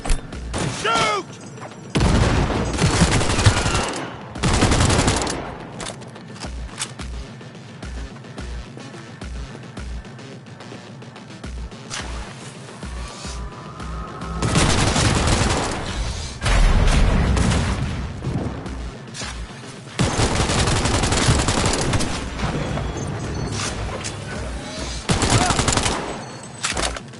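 Bursts of automatic gunfire and heavy booms from a Cyberpunk 2077 firefight come in rapid volleys with brief lulls, while a voice shouts excitedly over the shooting.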